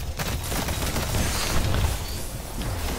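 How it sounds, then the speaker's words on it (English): A flashbang grenade goes off in the Destiny video game. It is a loud, dense roar of blast noise that stays up for the whole three seconds, with no voices over it. "Oh, freaking flashbang"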